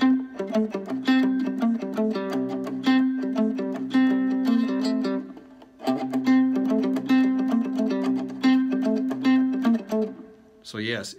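A well-known riff played on a 3-string cigar box guitar: a twangy, repeating single-note riff over a steady droning low note, played twice through at close range and moderately loud.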